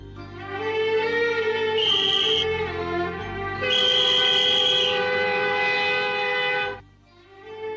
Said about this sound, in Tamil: ட்ரெயின் கிளம்ப போதுங்க.